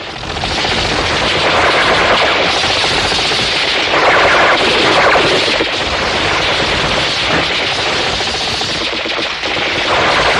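Rifle gunfire volley in a martial-arts action film, a loud, dense, continuous burst of rapid shots rattling without pause for about ten seconds, close and overwhelming, with no talking.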